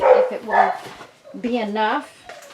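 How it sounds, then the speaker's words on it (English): Dog barking indoors in a few short, sharp bursts, moderately close, overlapping a person talking nearby. "Sorry about my dog barking"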